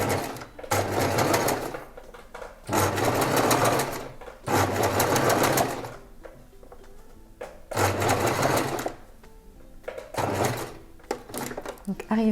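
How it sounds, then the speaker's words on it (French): Sewing machine stitching the hem of a sleeveless boat-neck top: loud bursts of rapid mechanical whirring, each about one to two seconds long, separated by short pauses and quieter clicks as the fabric is adjusted. "je vais m'arrêter et après je vais poursuivre mon ourlet"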